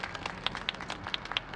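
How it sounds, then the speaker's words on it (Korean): An audience at an outdoor environmental protest rally gives a short burst of light, scattered clapping that is fairly close and moderately loud, with no voices over it. "박수로 환영해 주십시오"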